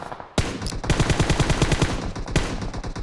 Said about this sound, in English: Clutch tries to take shots on Austin with an M416